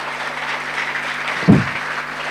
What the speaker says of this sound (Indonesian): Tepuk tangan untuk Bata-Bata.